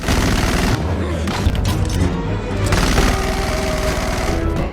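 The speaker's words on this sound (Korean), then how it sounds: "숨겨뒀던 기관단총을 꺼내 시원하게 갈겨줍니다" A submachine gun hammers out continuous rapid bursts in an action film scene, loud and dense throughout, with booming impacts and chaotic battle noise layered over it.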